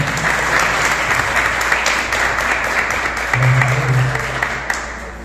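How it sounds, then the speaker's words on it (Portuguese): A church congregation at a couples' service claps to welcome the pastors, dense continuous applause throughout with a low hum and a brief tone near the end. "Vamos receber nossos irmãos, os pastores, aplaudindo, glorificando o nome do Senhor."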